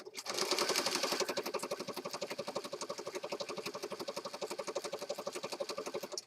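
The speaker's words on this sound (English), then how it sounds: "so let's go over the sewing machine again." A sewing machine stitches through scraps of paper while junk journal envelopes are made, a close, rapid, even mechanical whir of needle strokes that runs steadily throughout, starting a bit louder and then settling.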